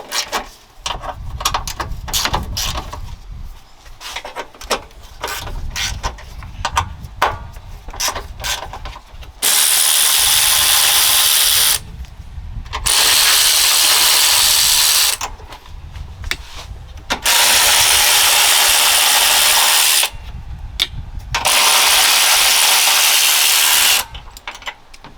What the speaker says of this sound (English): we're going to have to loosen all of these 10mm bolts